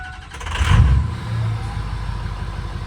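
A Ford 6.0 Powerstroke diesel truck engine cranks and fires up with a deep low rumble that swells briefly, then settles into a steady idle, close and fairly loud.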